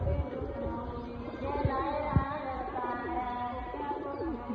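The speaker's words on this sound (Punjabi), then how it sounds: "ਖੜਨੀਆਂ ਵੇਖੋ ਕਬੂਤਰਾਂ ਦੀਆਂ" Pigeons in a Punjab loft coo steadily in soft, overlapping rolling calls, close by against a constant broadband background noise.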